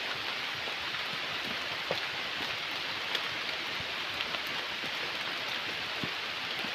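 Steady rain falls on a dark late afternoon as an even, dense hiss with scattered drips and patters, fairly faint and constant throughout. No voices.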